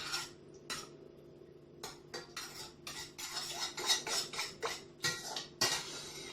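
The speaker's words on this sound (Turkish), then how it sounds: "Sonra bu peyniri karıştıracağım karıştırıyorum." A spoon stirs homemade labneh cheese made from warm, cultured milk in a bowl, giving a run of close, scraping clinks and taps that grow busier and louder as it goes on, with no talking.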